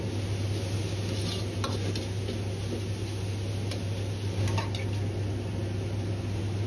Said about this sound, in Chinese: 再倒入切好的青红辣椒丝翻炒， 炒出清香味后，倒入炒过的肉丝，